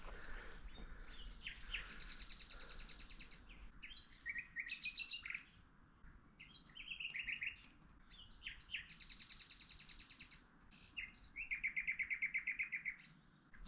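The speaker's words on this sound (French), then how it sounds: "Je m'y connais pas en oiseaux, mais c'est drôlement joli." Several birds sing at sunset in a burnt forest, in clear, bright bursts of chirps and trills that come and go over a low, quiet background, fairly distant, with no talk.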